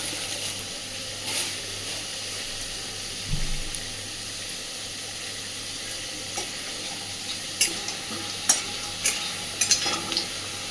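Whole cumin seeds, a bay leaf and a dried chili frying in hot oil, a soft steady sizzle with a few sharper crackles and clinks toward the end.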